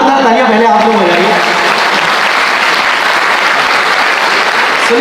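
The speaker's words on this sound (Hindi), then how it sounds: "एक बार जोरदार तालियां पहले आप लोग बजाइए।" At a kavi sammelan poetry gathering at NIT Jalandhar, a large audience claps loudly and continuously for several seconds, with a voice briefly audible over the start of the applause.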